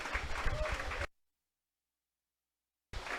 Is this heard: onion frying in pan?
no